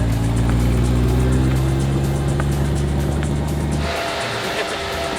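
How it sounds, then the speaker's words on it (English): Cooling fans on a C8 Corvette roar loudly as the car overheats, a dense steady whoosh close by that drops in tone and eases near the end. "Those fans are loud."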